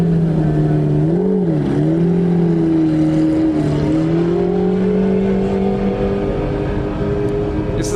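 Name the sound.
Lark F1 GTR supercar driving past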